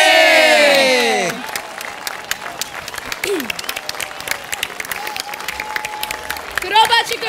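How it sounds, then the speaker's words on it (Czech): A crowd at a children's stage show claps loudly and continuously after a presenter's excited call, with scattered voices and squeaky character sounds over the applause. "Ještě jednou obrovitanácký potlesk pro vás!"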